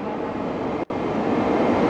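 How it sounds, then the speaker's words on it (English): A train pulls into a station on the French Riviera coast, an even rumbling wash of rail noise broken by a brief cut of near silence. "Here's the train."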